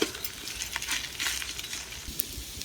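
Food sizzling and beginning to burn in a pan over heat, a close, crackly hiss with quick spitting pops and a sharp tap near the start, no talking.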